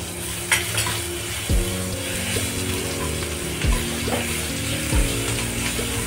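Cumin seeds and ginger garlic paste frying in a pan of oil make a strong continuous sizzle. A low rumbling hum runs underneath, and a few louder bursts stand out at intervals.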